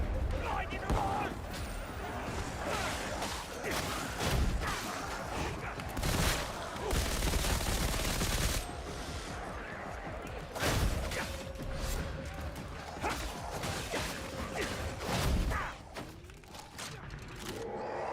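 Dense gunfire, rapid bursts and blasts from the video game Darktide, including blinding grenades, crackle continuously in a chaotic fight, loud and sustained with mechanical clatter throughout.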